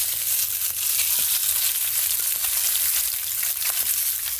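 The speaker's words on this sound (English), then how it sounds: "to this 13-inch cast iron skillet, I'm gonna add a little bit of olive oil. And now I'm going to add the crumbled sausage." Crumbled sausage frying in olive oil in a 13-inch cast iron skillet makes a loud, dense, continuous hiss with scattered pops and crackles, close up and with no talking.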